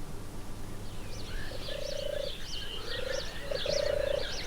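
Introduced toads croaking in the wild, several long trilling calls rising out of a constant background chorus, moderately faint and steady.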